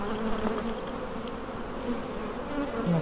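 Honey bees buzzing around beehives outdoors, a dense continuous drone of many insects with individual bees passing nearer now and then, steady and moderately loud with no speech.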